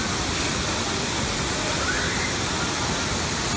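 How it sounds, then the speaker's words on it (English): A waterfall pours with a steady, loud broadband roar, close and unbroken throughout, with no voices rising above the rushing water. "Going up the side of this waterfall, guys."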